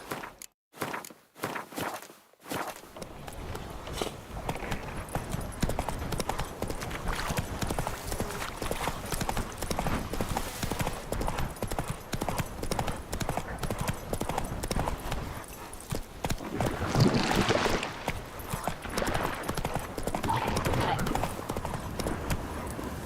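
Roach, the horse in The Witcher 3, gallops with a steady, loud clip-clop of hoofbeats that runs almost the whole way through, broken near the start by a few sharp gaps and joined by brief rider exclamations.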